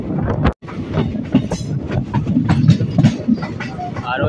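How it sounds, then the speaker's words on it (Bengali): A crowded passenger train pulls out of Bolpur station, its rumbling wheels and rattling carriages close and continuous, with a brief dropout and a babble of voices in the busy station mixed throughout. "আর এই মাত্র 10টা বেজে 50 মিনিটে বোলপুর থেকে আমাদের ট্রেনটা ছেড়ে দিচ্ছে।"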